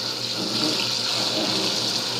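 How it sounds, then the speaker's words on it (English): Water gushes steadily from a kitchen sink sprayer hose, a close, continuous broadband hiss and splash with no pauses over a couple of seconds. "I'm going to turn on the water."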